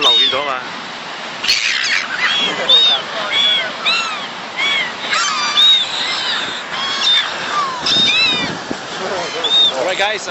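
Seabirds on a Gold Coast beach in Australia being fed, many squawking, high chirping calls overlapping close by in busy bursts, with wind and people talking mixed in.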